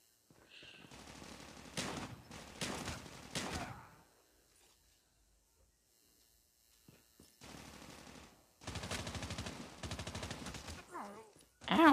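Bursts of machine-gun fire in Call of Duty Mobile, a couple of rapid volleys, then a near-silent pause before more sustained automatic fire, fairly close and sharp.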